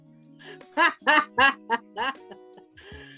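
A duck quacks loudly five or six times in a quick, close series against a quiet background of faint music.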